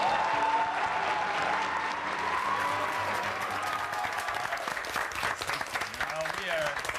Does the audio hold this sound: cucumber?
no